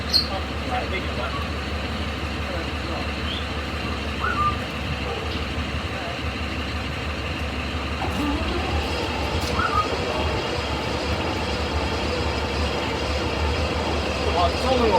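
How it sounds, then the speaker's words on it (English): The auxiliary donkey engine of a Chieftain tank under restoration runs with a steady, low mechanical drone and rumble for the whole stretch, while people talk over it. "Try donkey engine, make the donkey engine pump."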